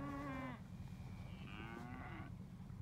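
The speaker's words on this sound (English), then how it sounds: "Good set of cattle, really gentle." F1 Braford heifers with Angus-sired calves low loudly nearby, one long harmonic moo followed by a second wavering call over a low outdoor rumble.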